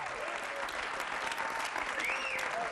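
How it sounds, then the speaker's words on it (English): Audience applause, steady and dense but faint and distant, runs the whole way through with a few whistles rising above it. "that's an applause for him"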